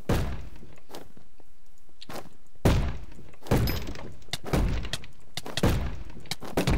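Repeated heavy thuds of a bat beating someone in a Minecraft street-crime game, several loud blunt impacts at irregular intervals over a dense, noisy game background.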